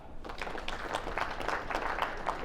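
Scattered applause from a keynote audience, faint and thin, with a few people clapping briefly in an uneven patter.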